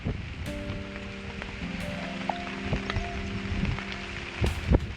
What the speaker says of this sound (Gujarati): વરસાદ આવી ગયો એટલે અહીંયા જ ઊભો રહી ગયો.